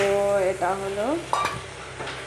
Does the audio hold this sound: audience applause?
no